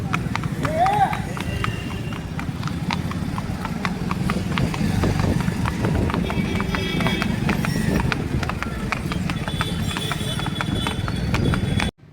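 A horse and colt trot along, hooves clip-clopping in a steady, quick rhythm throughout, with faint voices in the background.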